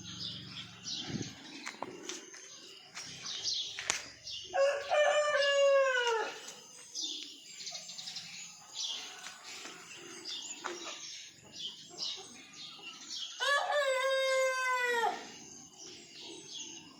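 Chickens crow twice, each a long, loud call several seconds apart, with scattered clucks and short bird calls filling the gaps between them.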